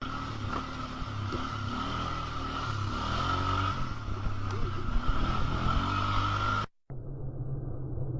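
An ATV engine drones steadily through a played-back recording, a continuous rough motor hum with slight pitch shifts, then cut off and replaced by a duller, quieter stretch of the same engine noise.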